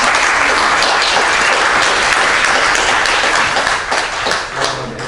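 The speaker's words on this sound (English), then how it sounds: "Round of applause for that." A lecture audience claps in a loud, dense round of applause that stays steady for several seconds, then thins slightly toward the end, with no speech over it.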